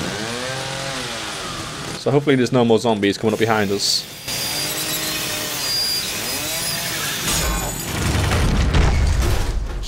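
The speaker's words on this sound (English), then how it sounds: "we need to use a chainsaw on this to break it" A chainsaw cuts through a gate in The Evil Within video game: loud, choppy revving bursts come up close mid-clip, then give way to a steadier grinding drone, with someone talking over it.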